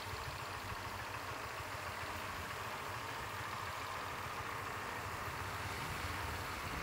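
Motorbike ridden along a rough road through a forest area before sunrise, its engine a steady continuous drone mixed with wind rush, constant in level and close with no voices.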